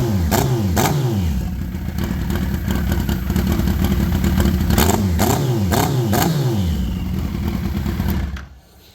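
A motorcycle on an MS3 plug-and-play ECU runs rich at idle and is revved repeatedly. The close, loud engine sweeps up and down in pitch several times with a clattery edge before it cuts off at the end.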